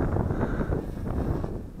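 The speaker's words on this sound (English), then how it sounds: "Nice breezy day today." Breezy outdoor wind buffets the microphone while an Eachine CG022 quadcopter drone with prop guards is flown, a loud continuous low rumble with no pauses.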